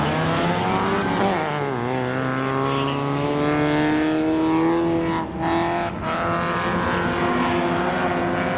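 Spectator drag race cars, a Chevy Camaro and a Honda Accord, launch at Seekonk Speedway, with engines revving loudly and rising in pitch as they pull away, then holding a strained drone.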